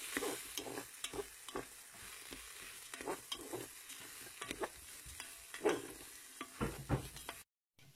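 A spoon stirs baby food seasoned with turmeric and cumin in a pan, making repeated close scraping and tapping strokes over a faint sizzle, with no talking, before a brief silence at the end.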